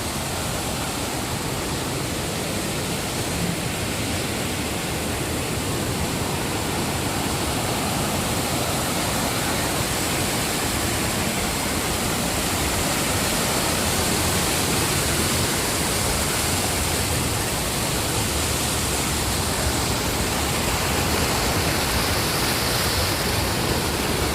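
Water pours steadily at Sahastradhara waterfall in Uttarakhand, a dense, continuous rushing roar close by that holds an even level throughout with no voices.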